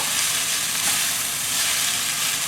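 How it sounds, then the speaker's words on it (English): Noodles with ginger, garlic and basil are stir-fried in a pan with a little oil, giving a steady, close, bright sizzle throughout. "We want to stir the 捞面, at least to be warm, combined with the ginger and garlic and the basil."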